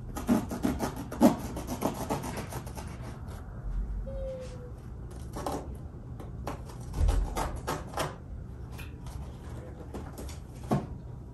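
A package of peanut butter cookie dough being cut open in a home kitchen, with close rustling and scraping of plastic wrapping in irregular bursts, interspersed with soft knocks and quiet pauses.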